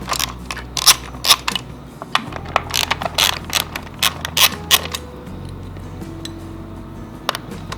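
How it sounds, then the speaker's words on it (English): A 5mm Allen key works bolts loose on a bike rack fitted to a BMW F30, giving a brisk series of sharp metallic clicks and ratcheting ticks at close range over a low background hum. "So what you're going to need is a 5mm Allen, and you are looking at the bolts right here, and we're going to take those out"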